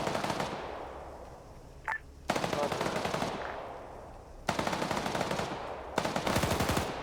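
Bursts of automatic machine gun fire in a military video game, several long loud sustained volleys separated by short pauses, with a faint voice briefly under the shooting.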